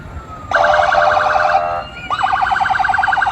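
Loud, close fire truck sirens blare in two bursts at a parade, a rapid electronic yelp followed by a fast warbling wail, with no talking.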